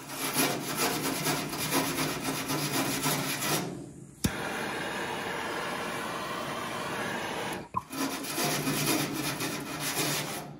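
Harsh, steady scraping of a wire brush rubbed back and forth on a Ford Falcon XY ute's metal panel, with a brief pause and a sharp click midway, close and loud.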